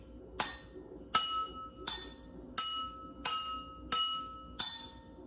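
Drinking glasses filled with different levels of water are struck one at a time, giving six bright, ringing clinks at a steady rhythm, each tone decaying quickly, with varied pitches, close and clear.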